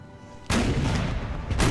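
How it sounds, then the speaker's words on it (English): A wall-mounted cannon fires in the Napoleon: Total War strategy game, two sharp booming shots about a second apart. Each bursts loud and close over a low ambient bed, with no talking. "one cannon on the wall that constantly kind of gets its fire arc right through here"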